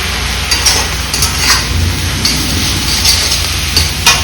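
Eggs and colostrum pieces frying in a pan on high heat. A loud, steady sizzle carries under repeated scraping and stirring strokes that come at intervals of about a second.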